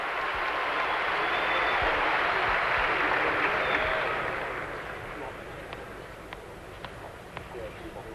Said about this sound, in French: Et Lendl applaudi par tout le Madison Square Garden.